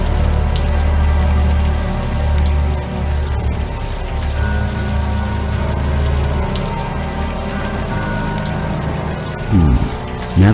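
Warm rain falls steadily in the Unavowed adventure game, a continuous close wash of patter that runs for the whole stretch, with a brief swell of other noise near the end.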